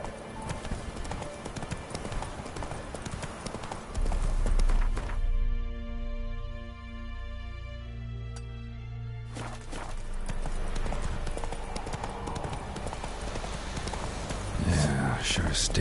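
Geralt's horse Roach gallops in The Witcher 3, hoofbeats running under game music and ambience, with a quieter stretch midway before the pounding rhythm returns; a voice speaks over parts of it.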